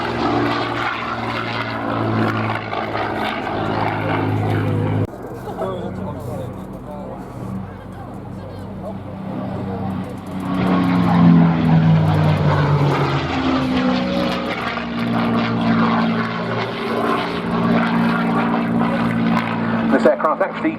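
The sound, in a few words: P-51 Mustang with Rolls-Royce Merlin engine flying at airshow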